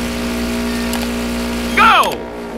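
A race car engine starts up in the racing game Wreckfest, a short rising mechanical whine and rev that swells briefly over a steady engine hum near the end.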